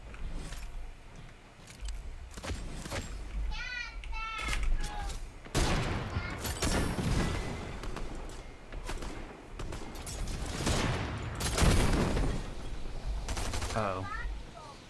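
Sniper rifle shots in the Fortnite battle royale game crack out as several sharp, loud reports spaced irregularly amid game effects, with a player talking between them.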